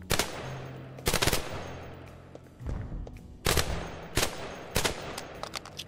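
Video game gunfire hits doors in sharp, loud bursts of rapid shots separated by short pauses, over a quiet low hum.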